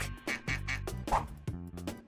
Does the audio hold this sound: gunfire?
no